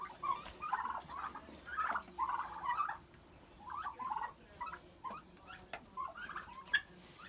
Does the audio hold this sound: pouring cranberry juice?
no